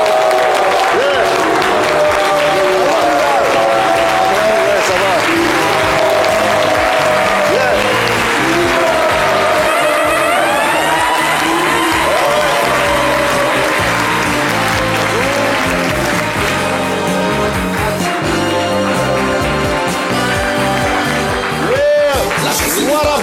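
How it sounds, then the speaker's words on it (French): Studio audience applause and cheering welcome a guest onto a live midday talk show, loud and sustained throughout, mixed with background music and crowd noise. "souhaitons tous ensemble, sous fond de musique, lumière et applaudissements, à la bienvenue au Lion de Divo, Abou-Nidal de Genève."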